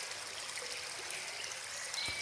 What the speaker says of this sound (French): le ruissellement cajoleur de la rivière